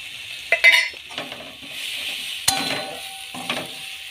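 Potatoes and soybean fry with ginger paste in a pan, a soft sizzle under scraping stirs and a few sharp clinks of a utensil against the pan, close by and moderately loud, with no talk.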